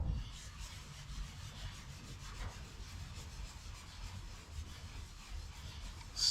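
Mild abrasive cleaner being rubbed by hand on 67-year-old car paint, a soft, steady back-and-forth scrubbing rasp that is close and fairly quiet throughout.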